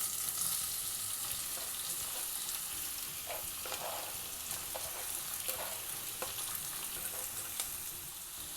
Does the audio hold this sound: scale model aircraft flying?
no